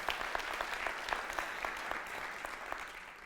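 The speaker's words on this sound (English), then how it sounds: "That applause was what I was hearing in my head" A crowd gives sustained applause in a hall, fairly distant and even, with a few sharper claps standing out before it slowly thins toward the end.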